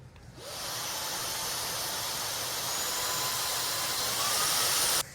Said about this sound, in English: So let's go ahead and turn it on and see the different vacuum suction modes.